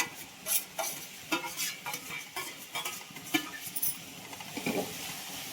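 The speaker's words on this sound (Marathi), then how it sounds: "कांदा भाजला आता टोमॅटो टाकले" Onion and tomatoes dry-fried in a pan without oil while a spoon stirs and scrapes, with a soft sizzle under repeated metallic clinks at an uneven rhythm, close by and fairly quiet, no talking.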